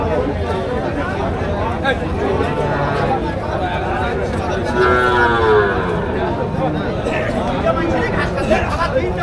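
Cattle moo loudly and repeatedly at the Ranir Bandar livestock market in Chirirbandar, Dinajpur, with drawn-out calls rising over a busy crowd's chatter and babble.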